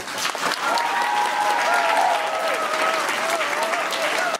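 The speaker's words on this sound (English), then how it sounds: "So please give a big Geil welcome and round of applause to Morgan Long." An audience at a local award presentation breaks into sustained clapping, a dense, loud wash of applause holding steady for several seconds before cutting off, with some vocal tones and cheers riding over it.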